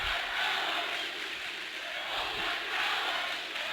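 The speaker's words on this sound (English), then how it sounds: "Jackson crowd getting into it here." Basketball crowd in a high school gym roars and cheers in a sustained, dense wash of noise, loud and continuous with no distinct voice standing out.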